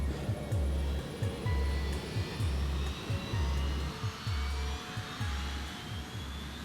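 An airliner's jet engines roar steadily while the aircraft begins its takeoff roll, with a loud low rumble and rhythmic thumps at regular intervals that sound like the wheels running over runway joints.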